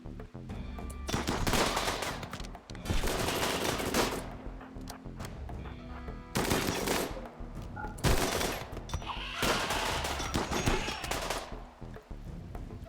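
Bursts of automatic gunfire in the RimWorld video game, long rapid volleys alternating with short pauses, loud and dense throughout.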